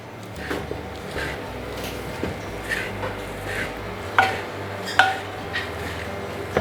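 Beaten rice (aval) being stirred in a pan with cashews and sesame, giving soft scraping and shuffling with a few sharp clinks of a spoon against the pan over a low steady hum.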